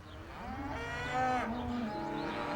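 Cattle in a herd moo in long, drawn-out lowing calls, one overlapping another, moderately close over a soft outdoor background.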